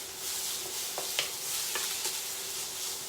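Carrots and onions hiss gently in a pan on lowered heat, with a few soft utensil clinks as the vegetables are tossed; the sizzle stays quiet and steady.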